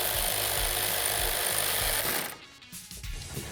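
A power driver tightens a T40 bolt on a Polaris RZR Turbo R vented windshield, a loud steady buzzing whir for about two seconds that cuts off, followed by a few faint clicks and handling noises.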